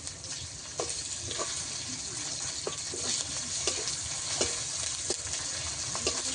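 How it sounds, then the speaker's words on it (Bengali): Prawns and onions fry together in a pan with garlic and ginger paste, a constant close sizzle broken by regular scraping taps of a spoon stirring the mix. "পেঁয়াজ চিংড়ি মাছ আমি একসঙ্গে ভেজে ভালো করে ভেজে নিয়েছি"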